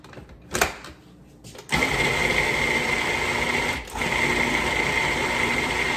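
A food processor mixing beef recipe ingredients starts up after a couple of brief clicks and then whirs loudly and steadily, with a short dip in the motor noise partway through.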